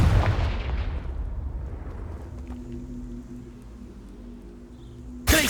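Confringo fire spell in the video game Hogwarts Legacy, a booming explosive blast at the start that rumbles and fades over several seconds, followed by a low steady hum and a sharp burst at the end.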